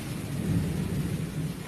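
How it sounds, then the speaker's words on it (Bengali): Low, continuous rumble of thunder in a storm with rain falling, a dense steady roar heard outdoors from a courtyard, moderately loud and without any talking. "দেখো কি মেঘ ডাকছে।"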